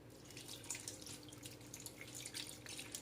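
Ice water trickles and splashes into a bowl of freshly churned homemade butter, a faint, close run of small drips and pouring sounds with no talking.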